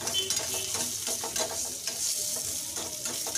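Turmeric-marinated liver frying with pepper in a pan, a steady close sizzle with soft stirring scrapes throughout, no voices.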